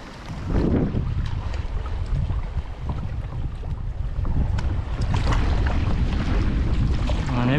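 Strong wind roars across the open sea near a Thai island bay by kayak, with gusty buffeting on the microphone and a low rumble of water, steady and loud throughout without talk.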